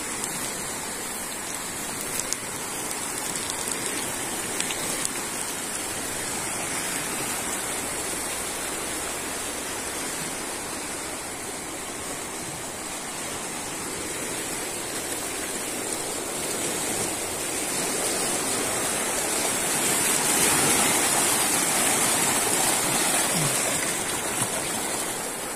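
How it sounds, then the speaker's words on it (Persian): The Surkhob river flowing, a loud, continuous broadband rush of water heard up close, steady throughout and swelling slightly toward the end, with no voices. "این لب دریای سرخاب"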